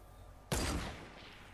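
A single sniper rifle shot in Fortnite, played from high ground: a sharp, loud crack followed by a short decaying tail, with no talk around it.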